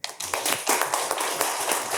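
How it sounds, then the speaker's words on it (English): An audience at an international conference on Indo-Pacific geopolitics claps for the panelists, with brisk, scattered hand claps filling a short, lively burst. "let's just express our thanks to panelists with big applause"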